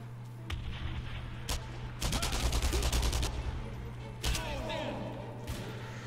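Gunfire in the WWII shooter Enemy Front: scattered single shots and a dense rapid burst of automatic fire, moderately loud over a steady game background hum, with someone talking over parts of it.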